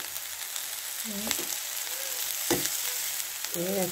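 Prawns with green onion fry in a pan, giving a steady, close sizzle with a few brief clinks and faint tonal sounds over it.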